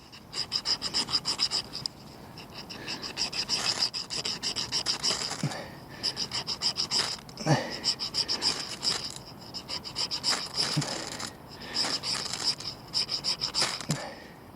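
A fire steel rasps against a striker over birch bark tinder, giving short bursts of close, scratchy scraping strikes repeated in quick runs with brief pauses between them.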